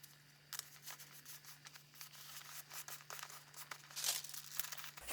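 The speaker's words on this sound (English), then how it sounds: "Covered that with some wax paper." Wax paper crinkling and rustling as it is wrapped over a tube during a bookbinding glue repair, a close, quiet, continuous papery crackle with a brighter crisp burst near the end, over a low steady hum.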